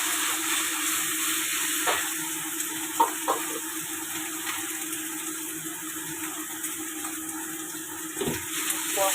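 Minced pork frying with eggplant in an oiled pan, a soft, even sizzle held at low level throughout with a few faint stirring clicks.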